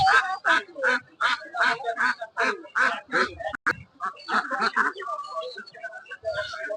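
Domestic ducks at a village poultry market quack in rapid repeated bursts, loud and close, with a crowd chattering in the background and a steadier mix of calls trailing off toward the end.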